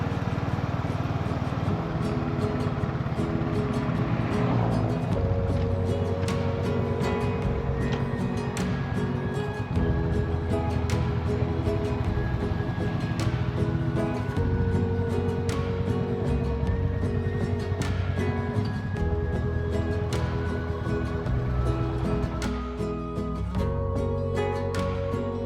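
A Royal Enfield Classic 350 motorcycle on a road trip gives a steady, continuous engine drone mixed with rushing wind rumble, unbroken for the whole stretch with no talking.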